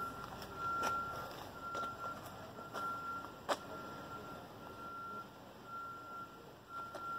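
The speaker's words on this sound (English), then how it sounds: "Backup alarm, come on." A truck's reversing alarm beeps steadily at a distance, faint against a rumbling, noisy background of heavy vehicles.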